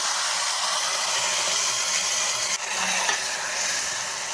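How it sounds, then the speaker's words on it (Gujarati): Potatoes and tomato gravy stirred together in a hot pan: a continuous hissing sizzle with a brief scraping knock partway through, close and steady, with no talking. "સારી રીતે બધું મિક્સ કરી દેવાનું છે જુઓ બટેટા અને ગ્રેવીને"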